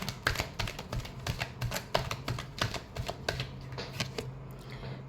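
Tarot cards shuffled by hand in a rapid run of crisp, papery riffles and slaps, close and moderately loud over a steady low hum, with no talking.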